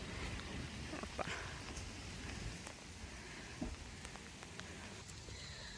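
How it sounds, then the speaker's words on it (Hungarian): Heavy rain pours down in the Hoia Baciu forest, a faint, steady patter dotted with scattered sharper drop ticks throughout. "Még mindig szakad az eső, nem gond."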